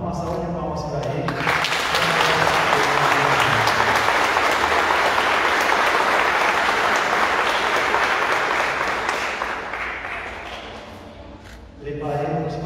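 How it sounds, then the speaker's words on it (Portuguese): Wedding guests at a church ceremony break into a long round of applause, the dense clapping swelling after a spoken line, holding steady, then fading out before the officiant's voice returns. "uma salva de palmas para ele"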